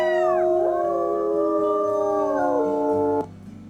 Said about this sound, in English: I'll just do another howl